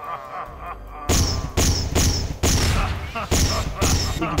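Repeated explosions in the Garry's Mod FNAF co-op game, a run of heavy booming blasts in quick succession after a quiet opening second, loud and close with gunfire-like thumps.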